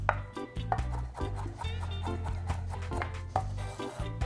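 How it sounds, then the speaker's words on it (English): A knife chops cilantro rapidly and steadily on a cutting board, quick repeated thuds close up with no talking. "now that we've got our cilantro chopped"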